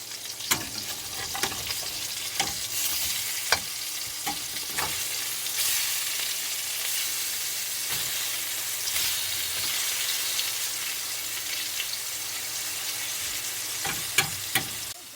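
Salmon fries steadily in a hot pan, a continuous bright sizzle with occasional sharp pops and spatters throughout, close and alone with no talking.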